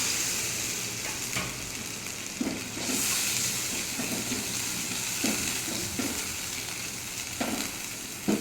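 Fried spices, cumin and coriander powder, sizzle in a pan as water is poured in for a fish curry, giving a steady loud hiss and crackle with occasional stirring scrapes and bursts of steam.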